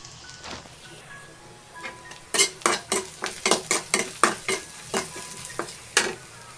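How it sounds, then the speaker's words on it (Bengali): Onion, garlic and two dried red chillies frying in a pan for a red amaranth dish, a low sizzle with a burst of quick scraping stirs from a spatula against the pan, close and busy, without talk. "এখানে পেঁয়াজ রসুন দুইটা শুকনো মরিচ একটু ভাজা ভাজা করে নিই"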